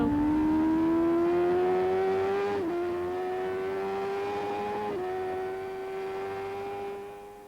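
250cc Grand Prix motorcycles on a warm-up lap at Mallory Park in 1990, a loud sustained high engine whine with two brief gear-change dips as a bike holds close, then fading slightly toward the end.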